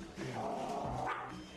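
A small, old dog gives a brief bark-like yelp indoors in a home, quiet and close, lasting about a second.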